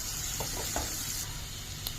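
Curry leaves and turmeric frying in a pan for an oyster mushroom curry, giving a soft, steady sizzle with a few faint stirring scrapes, heard alone without voices.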